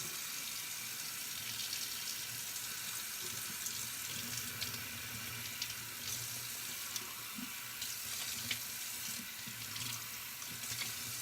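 Cool tap water runs steadily into a glass holding a block of clear ice, a constant hissing splash that fills the room with no talk over it.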